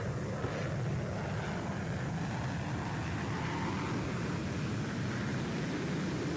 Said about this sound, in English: I'm gonna do a flyover here now.